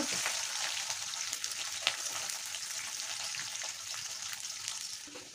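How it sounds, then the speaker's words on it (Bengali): Garlic fries in a pan alongside already-fried baim (eel) fish, giving a steady, fairly loud hiss and crackle that runs without a break and has no talk over it. "এখন আমি রসুনগুলো দিয়ে দেব, ভালো করে ভেজে নেব।"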